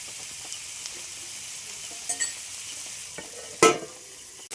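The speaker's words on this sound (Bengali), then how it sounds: "এইভাবে মিশিয়ে নিয়ে আমি আবার 5 মিনিটের জন্য ঢাকা দিয়ে দেব" Chicken curry is stirred in a pan, giving a soft continuous sizzle with light scraping and a sharp clatter of the spoon against the pan near the end.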